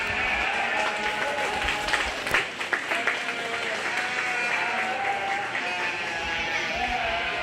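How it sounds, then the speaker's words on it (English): Applause for exhibitors at a county fair 4-H and FFA sheep show, a scattered, fairly continuous clapping from the arena crowd with some background voices and movement. "Go ahead and give those exhibitors a nice round of applause"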